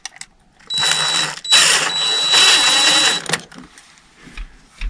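A driver spins screws out of the housing of a MrCool DIY mini-split unit during a motor replacement, producing two close bursts of whirring and ratcheting with a brief pause between them and a few light clicks after.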